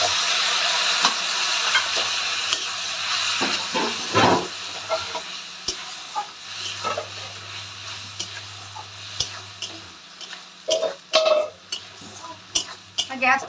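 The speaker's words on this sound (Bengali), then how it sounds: "এর মধ্যে আমি একটু জল মিশিয়ে দিচ্ছি" Water poured into a wok of hot spices for an aloo potol ghonto, giving a steady hiss and sizzle with clinks of a spoon stirring and scraping against the pan. The sound is close and continuous.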